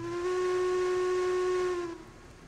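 A Heisler steam locomotive in the Railroads Online video game gives one long, steady steam whistle blast with a loud chordal tone lasting about two seconds, then cuts off into a faint hiss.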